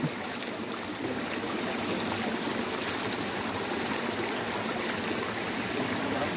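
Spring water flowing and trickling at a rocky fishing spot, a steady close wash of babbling water with no voices.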